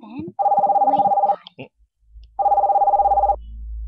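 Two long electronic telephone ring tones, each about a second, separated by a short pause, loud and close.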